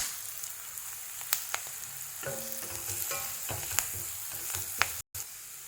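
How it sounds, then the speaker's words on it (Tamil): Masala spices frying in oil for egg rice: a steady, fairly quiet crackling sizzle with scattered sharp pops and occasional stirring scrapes, ending in a brief cut of silence. "இப்போ நான் இந்த மசாலா எல்லாம் போடுறேன்"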